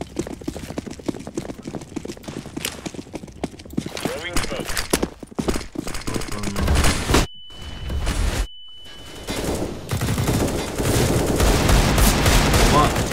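Rapid bursts of gunfire and clattering footsteps fill a round of the game CS:GO, loud and busy, with a brief silent gap midway, while players talk over it.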